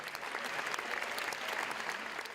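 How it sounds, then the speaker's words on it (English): Sustained applause from hundreds of people giving a standing ovation at the Venice film festival, dense and steady clapping throughout with no gaps. "hundreds of people applauded the makers of The Voice of Hind Rajab"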